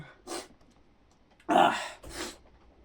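Three sneezes in a row, close and loud, a short one first and then two stronger bursts after a pause.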